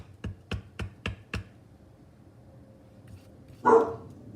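A pet dog gives five quick, loud barks in a steady burst, followed by a pause of quiet room tone and then a short, sharp louder yelp close to the microphone.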